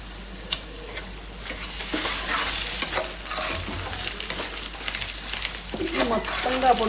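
Fish fries with turmeric, chilli powder and ginger-garlic paste in a pan, giving soft crackling sizzle broken by scraping stirs and light ticking clatters, with a voice speaking at times.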